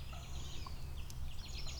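A young male wild turkey, a jake, gobbles faintly from some distance in open woodland, a short rattling burst over a low steady background rumble.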